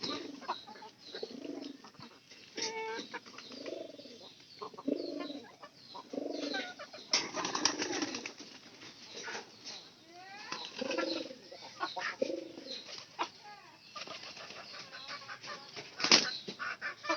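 Pigeons coo repeatedly in soft, low, throaty phrases in an outdoor loft in the afternoon, with occasional wing flutters and faint background rustle, no one speaking.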